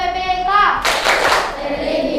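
A group of schoolchildren claps together in the PPK clap routine, a dense burst of hand claps following a short sung or chanted lead-in.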